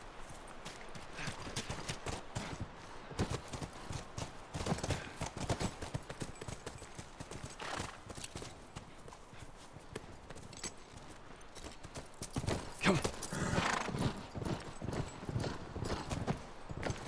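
Horses walking with steady clip-clopping hooves in The Last of Us Part 1 video game, continuous rhythmic hoofbeats close by, with an occasional faint whinny and a brief voice.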